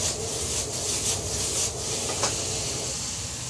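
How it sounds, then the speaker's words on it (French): Sichuan-style aubergines are stir-fried in a wok, giving a steady, dense sizzling hiss with faint scraping, close and continuous and with no talk over it. "On va sauter ça 2 minutes"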